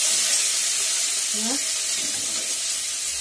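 Cauliflower stalks going into a hot pan with pre-boiled potatoes, giving a steady broad hiss of sizzling throughout, loud and close, with a brief voice heard faintly beneath.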